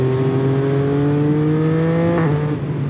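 A Yamaha motorcycle with a quickshifter and Akrapovic exhaust, rated at 130 horsepower, revs loud and close, its sustained engine note rising, then dropping abruptly with a quick gear shift before carrying on.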